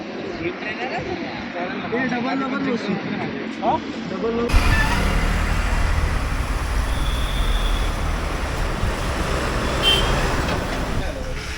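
A car sets off on a road trip toward Lonavala; talk comes first, then a sudden cut to steady road and engine rumble that continues under occasional voices.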